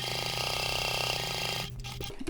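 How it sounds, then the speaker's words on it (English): A sewing machine runs steadily, stitching across the flap of a Stanley satchel with a close, rapid mechanical whir and rattle, then stops abruptly, leaving a few soft handling clicks. "I'm going to sew across that line, and then pivoting again and sew up the other side."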